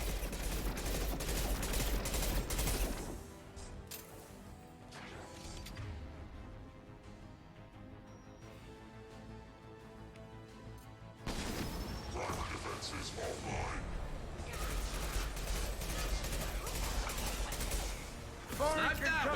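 Gunfire from Mass Effect 2 combat, bursts of shots and impacts loud at the start and again after a quieter stretch, layered over game music and effects with a voice talking over it.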